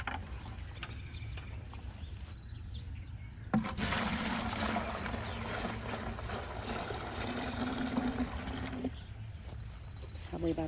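Maple sap is poured from a collection container into a bucket in an Ohio backyard, producing a steady splashing pour of about five seconds between quieter handling clunks before and after.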